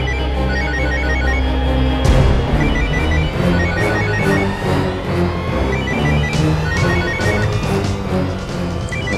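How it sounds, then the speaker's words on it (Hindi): A mobile phone rings in repeating electronic bursts through a dense, loud dramatic mix of music and effects, with no clear voices. "किसका बच रहा है, मोबाइल किसका बच रहा है, बंद करो इसे।"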